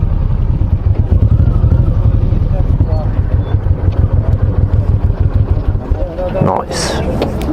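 A Honda VTX1800 motorcycle rumbles loudly at low speed with a steady throbbing idle while parking, with a rider talking over the engine near the end.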